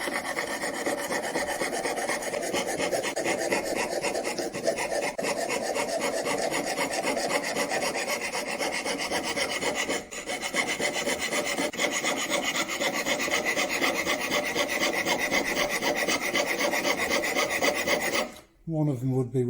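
Steady, continuous hand filing on brass, a dense rasping scrape repeated in even strokes throughout, close up, ending with a brief pause and clatter.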